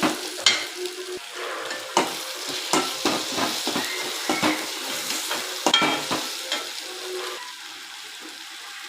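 Onions sizzle in a hot pan while a utensil stirs and scrapes repeatedly, irregular clinks and scrapes over a steady frying crackle.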